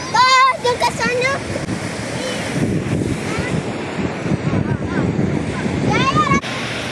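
Sea waves washing up on a beach in Langkawi under gusty wind buffeting the microphone, with people chatting and a voice over the surf.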